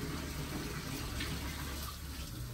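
Tap water pours in a steady, faint stream during washing, with a continuous rushing wash of sound and a low background rumble.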